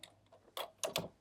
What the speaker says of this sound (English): Oops, make typing mistakes.